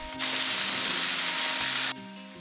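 Steak and provolone cheese sizzle on a home griddle, a loud, bright hiss that starts abruptly, holds steady for nearly two seconds, then cuts back to a quieter background hum.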